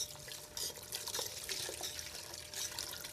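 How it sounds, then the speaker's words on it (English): Beef stock pouring into a pot of roux and vegetable mirepoix, a soft steady liquid rush with faint trickling and splashing that stays fairly quiet and continuous. "we've got 3 quarts of beef stock. We're going to add to our roux and our vegetable mirepoix"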